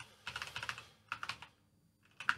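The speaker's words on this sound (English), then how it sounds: "can't type when people are watching" Typing on a computer keyboard comes as quick bursts of close, crisp keystrokes, three short flurries separated by brief pauses, with no voice.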